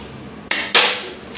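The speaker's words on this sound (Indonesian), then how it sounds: "Tembakan ke-8" Two sharp, loud cracks about a quarter second apart, each a sudden bang with a short decay, like gunshots close by.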